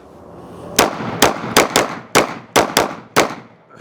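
Gunfire from a handgun fitted with an OLIGHT PL X weapon light: eight sharp, loud shots in quick irregular succession over a few seconds, each with a short ringing tail, and no talking.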